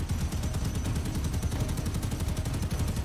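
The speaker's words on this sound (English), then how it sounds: "Heavy bolter just takes out TIE fighter." A heavy bolter in a Star Wars video game fires at TIE fighters, a sustained rapid stream of loud, heavy shots at an even, fast rhythm throughout, with no pauses.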